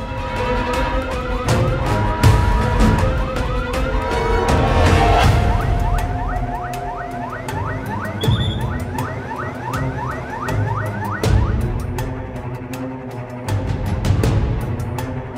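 Fire engine siren arriving at a building fire drill, a loud wailing siren sweeping up and down repeatedly with rapid yelping cycles, close and dominant over vehicle rumble.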